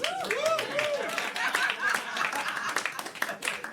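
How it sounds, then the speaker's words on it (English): Comedy club audience at a stand-up festival, with scattered, thin clapping close by and voices chattering and calling out over it, amid a lively room. "That's a late clap."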